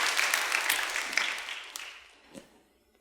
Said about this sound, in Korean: 박수 한번 해줘.